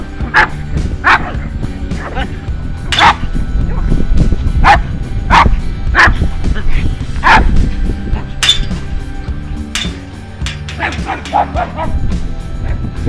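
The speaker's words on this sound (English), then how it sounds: "I just had two people with about 6 dogs yapping away." Around six dogs yap and bark near Brough Castle, with quick irregular barks overlapping throughout, close and fairly loud.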